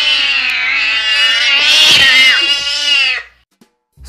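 A single long, loud cat meow, drawn out for about three seconds before fading into silence.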